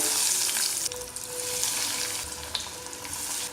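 Vegetable cutlets deep frying in a kadai of hot oil on medium heat, a steady close sizzle and bubbling that runs unbroken throughout, with a couple of small clinks partway.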